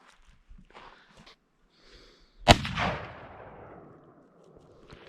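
A single sharp crack from a CZ 527 rifle fitted with a Leupold scope during sighting-in, loud and close, followed by a fading outdoor echo.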